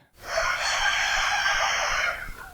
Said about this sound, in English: That's supposed to be a rooster there.